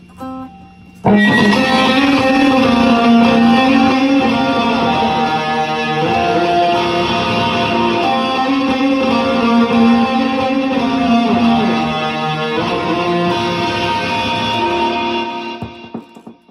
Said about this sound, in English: I flip on the distortion, which actually is the metal zone on the DM4.